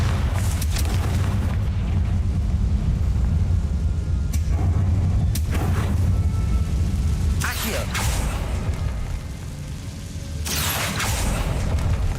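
Bombarda and Confringo spell explosions in the Hogwarts Legacy video game: several loud booming blasts burst out over a continuous low rumble of game ambience, with spoken voices heard between them.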